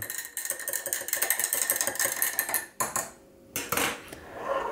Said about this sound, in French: je commence par mettre ma levure boulangère directement dans mon lait tiède. Et à l'aide de mon fouet, je mélange